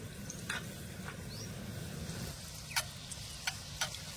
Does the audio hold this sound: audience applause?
no